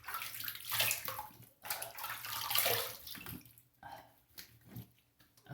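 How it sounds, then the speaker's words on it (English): Running water splashes as a face is rinsed after a razor shave with a Parker semi-slant, loud, close bursts of pouring and sloshing separated by short pauses. "Let me rinse up."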